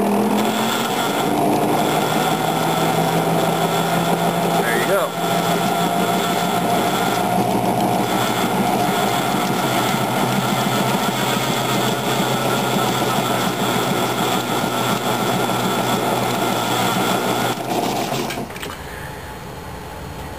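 A trifilar coil jig runs steadily with its motor humming as the wire twists, a continuous mechanical drone that holds level for most of the stretch before dropping off near the end.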